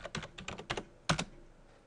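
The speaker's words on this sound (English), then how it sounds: "And I will type my password." Password being typed on a computer keyboard during Windows Server 2012 R2 domain setup: a quick, close run of crisp key clicks in uneven bursts, with a slightly louder pair of presses near the end, no voices.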